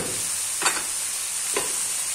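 A minced meat and potato dish with green pepper sizzles softly in a pan as a utensil stirs it twice, each pass giving a short scraping swish over the steady frying hiss.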